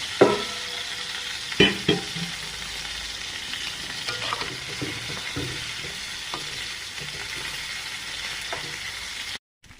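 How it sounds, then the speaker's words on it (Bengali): Green bananas sautéed and stirred in a pan while cooking with tengra fish, a steady sizzle with sharp scraping clatters of the spatula at the start and scattered softer stirs, ending abruptly. "এবার আমি কলাগুলো দিয়ে দিচ্ছি, কলাগুলো কষাই নেব"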